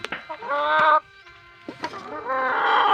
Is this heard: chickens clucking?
yes